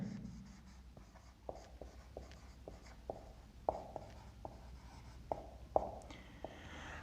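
Chalk or marker writing on a board during a physics lesson gives sharp taps and short strokes in an irregular rhythm, faint and close in a quiet room.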